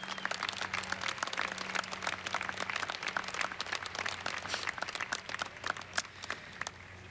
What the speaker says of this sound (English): Let's give Safeway, Channel 2, and Fortitude a big round of applause for their effort